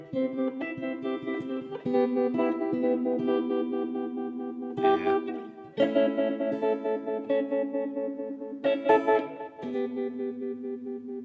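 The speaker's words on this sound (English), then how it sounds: "it's just a little bit of spring reverb from the Volante" Electric guitar plays chords and single notes through a JAM Pedals Volante, each attack trailing into a wet, splashy spring reverb that rings out between phrases.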